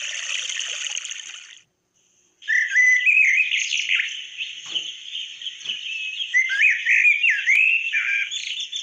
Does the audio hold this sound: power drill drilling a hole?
no